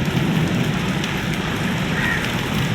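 Heavy rain pours down during the wheat harvest season in Punjab, a dense, constant hiss and patter of drops close by with no talk.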